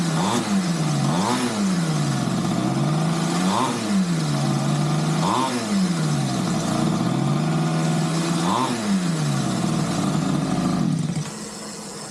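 A 50cc pocket rocket engine fitted with a shift kit on a motorized bike runs alone, its buzzing pitch climbing and dropping several times as it revs up through the gears, close and loud, then settling lower at the end.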